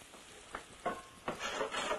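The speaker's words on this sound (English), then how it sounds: "Really, really flavorful when it starts to cook and brown up a little bit." Butter sizzles and browns in a pan for a butternut squash au gratin, a soft steady fry broken by several brief louder bursts of crackle and stirring.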